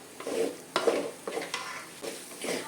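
Egg bhurji with curry leaves stirred in a pan, a close series of about five scraping strokes in an uneven rhythm over a soft sizzle, no talking.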